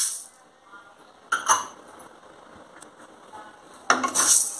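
Urad dal dry roasting in a pan without oil, stirred with a spoon, giving soft scraping and rattling with two brief louder clatters of utensil against the pan.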